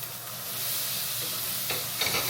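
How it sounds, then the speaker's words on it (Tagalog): Onions frying in hot oil, a steady close sizzle with occasional stirring scrapes and brief bursts toward the end, no one talking. "Oil. And do the onions."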